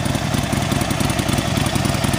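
Harley-Davidson Sportster Iron 1200 (2019 XL 1200NS) with a 1200 cc Evolution V-twin and blacked-out exhaust, idling close by with a loud, uneven, loping low rumble that pulses steadily throughout.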